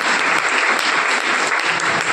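A classroom of students applauds after a maths demonstration lesson, giving steady, dense clapping that stays loud and even throughout.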